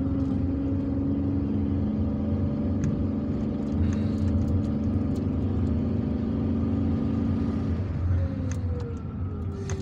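A car driving through a tree-lined suburb of Algiers, its engine a steady low hum with road noise from inside the cabin, holding constant throughout with faint clicks and no talk.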